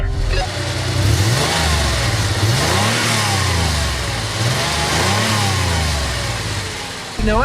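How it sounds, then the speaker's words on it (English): A rare Jeep SUV with an American V8 engine revving repeatedly up close, loud rising and falling sweeps over a rumbling idle, several blips in a row before cutting off at the end. "I love how the whole SUV kind of cocks one direction when you rev it up from all that torque."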